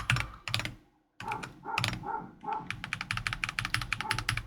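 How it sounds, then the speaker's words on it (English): Several loud dog barks come in quick bursts with short gaps, followed by a rapid run of clicking like keyboard typing. The barks sound fairly close. "The dog barking and everything."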